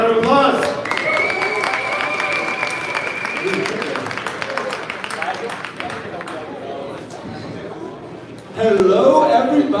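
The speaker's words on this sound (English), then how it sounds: "Let's hear a round of applause." Applause and cheering from a crowd at a live Based Africa stage event swell and rumble under a voice over the PA, with a sustained tone partway through and a fresh loud burst near the end.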